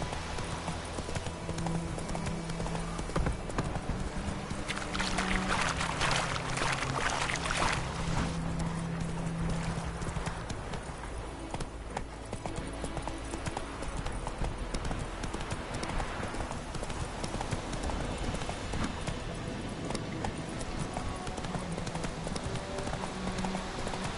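Hooves clip-clop in a rapid, steady rhythm as a horse gallops continuously in The Witcher 3 video game, mixed over game music and ambient sound throughout.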